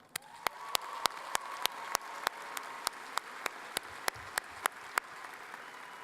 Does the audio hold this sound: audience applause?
yes